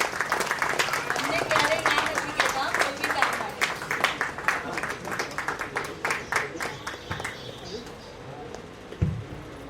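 An audience at a play group's Independence Day celebration claps for a guest, a burst of scattered applause that thins out into a few separate claps with some voices behind.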